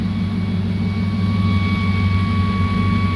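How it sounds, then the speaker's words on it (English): A steady engine whine from the positive crankcase ventilation on an Audi-engined MR2 project car runs at idle: a constant low rumble with a thin sustained tone above it, close and even throughout, with no talking. "That whine's coming from the positive crankcase ventilation right here."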